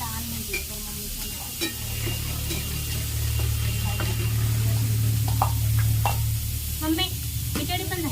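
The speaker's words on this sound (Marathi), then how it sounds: "कांदा परतून घेत आहे।" Onion stir-fried in a pan on a wood-fired chulha gives a continuous sizzle broken by repeated scraping clicks of a spatula, over a low steady hum.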